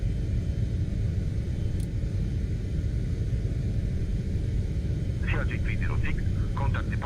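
CRJ-900 jet engines at takeoff power in a flight simulator game, a loud, steady, low roaring rumble that runs throughout, with brief voice sounds near the end.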